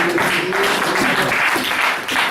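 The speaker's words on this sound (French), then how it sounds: "Acclamation pour les Seigneurs." A church congregation applauds in praise of the Lord, a steady loud wash of clapping from many hands with some voices mixed in.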